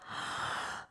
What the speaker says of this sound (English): Big deep breath into your mouth.